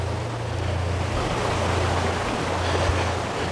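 Rushing water at Wli Waterfalls in Ghana, a steady, dense roar that stays loud and unbroken throughout, with a low hum running underneath.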